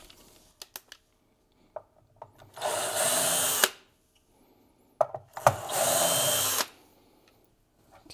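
A power drill backs screws out of the bridge of a Telecaster-style guitar built from MJT and Fender parts: two close, loud whirring bursts of about a second each, separated by small clicks and handling taps.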